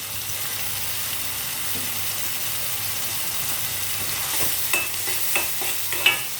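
Egg masala gravy with onions and turmeric sautéing in a pan: a constant hiss of frying, then a series of rhythmic stirring scrapes near the end, close and steady with no speech.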